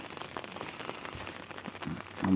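Rain falls over a rice paddy field with fish raised in it, a steady diffuse patter of drops close by, holding even throughout and swelling slightly louder at the end.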